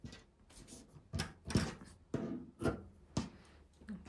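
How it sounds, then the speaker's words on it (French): A special fabric marking pencil drawn across cloth, a series of about seven soft scratchy strokes in an uneven rhythm, quiet and close. "je vais juste utiliser le crayon spécial tissu"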